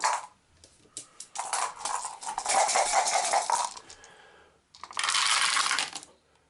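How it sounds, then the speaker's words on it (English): Five dice clatter and rattle across a table during an Arkham Horror: The Dunwich Horror board game turn, in two loud bursts of tumbling clicks separated by a short pause. "she's going to roll 5 dice."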